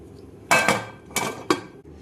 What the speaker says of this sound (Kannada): ಈಗ ಕುಕ್ಕರ್ ಲಿಡ್ ಹಾಕೋನು.